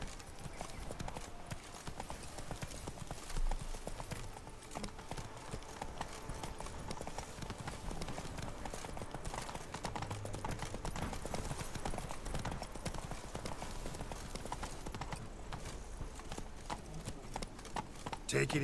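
Hooves of Roach, a horse in The Witcher 3 game, clopping steadily under a constant mix of game audio, with voices talking over the hoofbeats.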